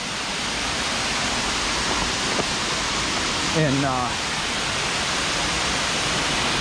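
The lower waterfall beneath a rock shelf at Quaker Falls in Edinburg, Pennsylvania roars as a steady, full rushing wash close by, with a brief spoken word and a short whistling sound rising over it midway.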